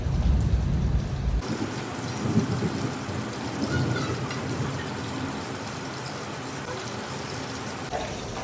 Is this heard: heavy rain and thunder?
yes